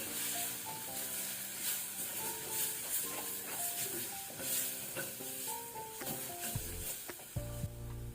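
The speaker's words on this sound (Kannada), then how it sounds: "ಇದನ್ನು ಸ್ವಲ್ಪ ಲೋ ಫ್ಲೇಮಲ್ಲಿ ನಾವು ಫ್ರೈ ಮಾಡ್ಕೊಳ್ಳುವ ಮಸಾಲವನ್ನು" Turmeric, chilli powder and curry leaves fry on a low flame in a steady, hissing sizzle, with background music playing throughout.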